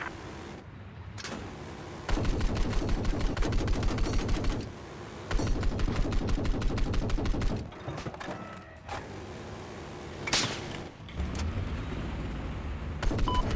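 Gunfire from a vehicle in the Battlefield 4 video game, long bursts of rapid, loud automatic fire with pauses between volleys over a constant engine rumble.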